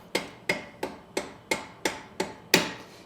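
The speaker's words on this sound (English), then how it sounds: "Pound the bolt the rest of the way through." Seven evenly spaced hammer blows drive a bolt through a Janus Halcyon 450 motorcycle rear cargo rack, each strike a sharp close metallic knock with the last one loudest, no voices.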